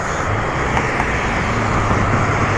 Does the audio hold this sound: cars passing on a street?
yes